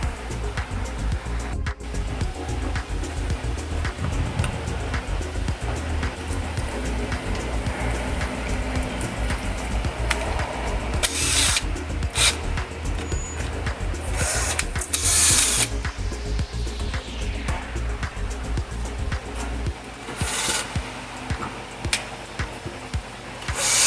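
A drill-mounted wire wheel scrubs grimy Honda Civic Si clutch-job parts, giving a steady whirring, scratching drone broken by bursts of harsher grinding as the bristles bite, close and continuous.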